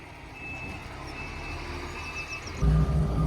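A lorry reverses under a grain spout at a farm store, its reversing alarm beeping in a steady high tone at a moderate distance over a low engine rumble that swells near the end.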